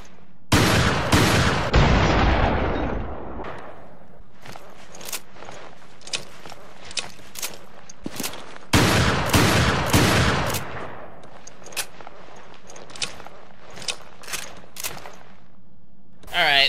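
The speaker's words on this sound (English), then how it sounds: "that Drake fired, like, pretty fast for a shotgun" The Drake, a legendary shotgun in Resident Evil: Revelations raid mode, fires in two loud bursts of quick repeated blasts, each followed by a steady run of sharp single shots at a fast pace for a shotgun.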